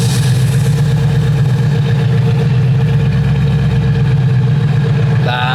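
An Audi S4 engine runs on a dyno with a loud, steady, low drone and strong harmonic hum, holding constant for several seconds before a brief change near the end.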